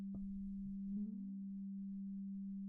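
Simple sine tone run through Ableton Live's Resonators effect, a steady pure hum with a brief burst of resonant ringing and sliding overtones near the start before settling back to the plain tone.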